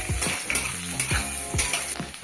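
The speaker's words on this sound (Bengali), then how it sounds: "রসুন কুচানোটা দিয়ে দিলাম।" Chopped garlic hits a pan of already browned chopped onions and fries with a steady close sizzle, while a spatula scrapes and stirs in a regular rhythm of short knocks.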